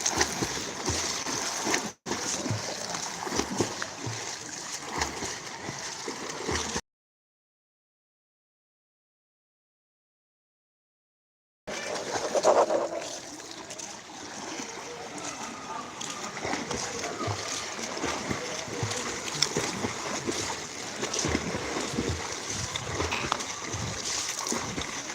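A swimmer doing ordinary strokes in a college swimming lesson, with steady churning water splashes that cut out briefly in the middle and then resume, close and continuous.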